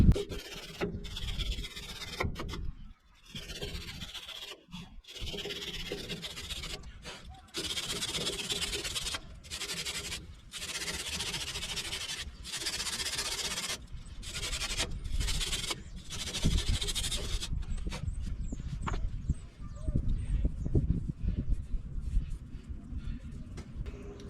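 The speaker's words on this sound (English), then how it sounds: "So, let's give this a little brush." Wire brush scrubbing a rear disc brake part during a C10 truck brake install, rough repeated rubbing strokes with brief pauses between them, close and fairly loud.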